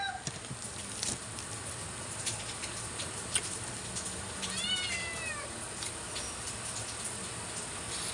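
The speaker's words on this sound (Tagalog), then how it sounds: "Gusto lumabas ng pusa guys." A house cat meowing to be let outside on a rainy day, several clear meows in a short run heard over a steady soft patter of background noise.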